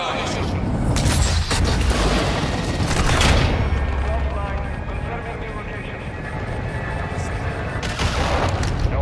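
Artillery strike called in during a Call of Duty: Modern Warfare II match, heavy booms and rolling fusillade fire with aircraft noise layered over a dense battlefield din, loud and sustained, with voices talking over it.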